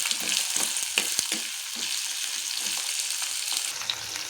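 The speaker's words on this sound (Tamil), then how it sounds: "ஒரு 50 கிராம் சின்ன உள்ளி, அதையும் கொஞ்சம் நல்லா பொரிய விட்டு எடுப்போம்" Small onions (shallots), about 50 grams, frying in hot oil in a pan give a steady, close hiss and crackle with light stirring scrapes and no voices.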